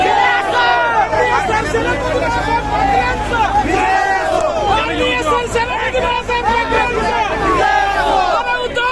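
A dense, loud crowd of supporters erupts in continuous jubilant shouting and overlapping cheers, celebrating a panel's victory in the Gangapur cooperative sugar factory election, with no pause in the roar throughout.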